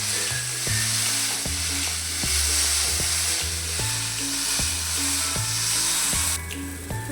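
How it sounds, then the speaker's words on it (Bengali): Potatoes fry with salt and turmeric in a covered pan, no water added, ahead of a mutton curry: a loud, steady sizzle with a repeating low hum running underneath, no talk. "ঢাকা দিয়ে দিয়ে ভেজে নেবো আলুটা।"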